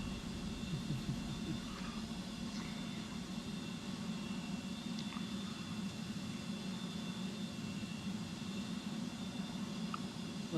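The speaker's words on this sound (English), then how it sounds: "We have a Boeing, no, it is a 737. The Max 9." A Boeing 737 MAX 9 jetliner at an airshow gives a steady, broad roar of engine noise, fairly distant and unchanging throughout with no talk.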